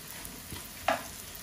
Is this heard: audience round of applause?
no